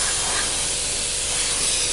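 An airbrush sprays a flat finish onto the underside of a 1/48 Academy Raptor model, a steady close hiss of air and paint that runs without a break, with no talk.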